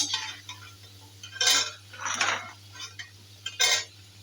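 Metal utensils clink and scrape against a pan and plate as fried potatoes are lifted out of oil, a few separate clattering bursts over a quiet background hum.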